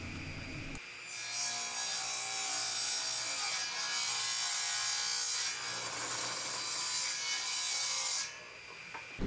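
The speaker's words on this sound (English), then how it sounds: "I wanted to do as much of the finish sanding as I possibly could on the legs" Steady, continuous abrasive rubbing of sandpaper on wooden footrest legs, loud and close, with brief pauses in the stroke around the middle and near the end.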